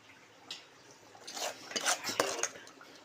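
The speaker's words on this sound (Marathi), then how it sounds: "आता त्यात वाटण टाकायचं." Ground masala paste is scraped into a pot of pressure-cooked mutton and stirred with a metal spoon, giving faint, close clinks and scrapes against the vessel in an uneven run.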